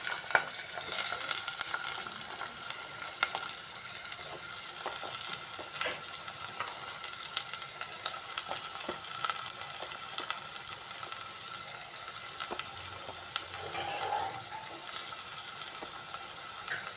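Tomato curry of onions, green chilies and tomatoes frying in hot oil, a steady, dense sizzle that runs unbroken throughout, close-up and alone.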